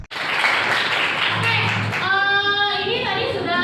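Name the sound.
classroom clapping for a group presentation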